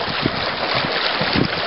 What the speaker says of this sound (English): Kind of gusty.